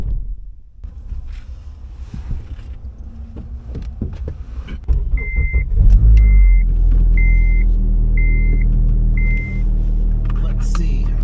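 An 8th gen Honda Civic with a K24 engine swap drives off, a low engine rumble and road hum building and holding steady, with repeated warning chimes from the dash and a person talking over it at first.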